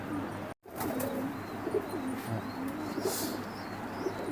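Young Oman bloodline pigeons cooing, a string of low murmuring coos at moderate distance over steady ambient noise, with a brief dropout early on and a few faint chirps.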